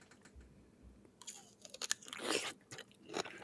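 Someone bites into a pickle up close, giving crisp crunches followed by wet chewing and slurping sounds in a quiet room.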